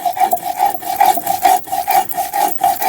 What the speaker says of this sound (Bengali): আদাটা বেটে নিচ্ছি।